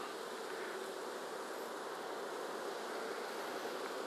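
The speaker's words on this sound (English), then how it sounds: "With some bees on right where I need to put my fingers." Honey bees crowd a hive frame during a beekeeping inspection, making a constant, even, fairly faint buzz with no voices.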